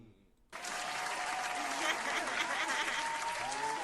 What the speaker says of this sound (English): I'm going to give myself a round of applause.